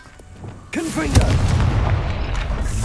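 A Confringo fire spell blast in Hogwarts Legacy, a sharp booming burst with a rumbling tail, preceded by quiet game sound and brief voices.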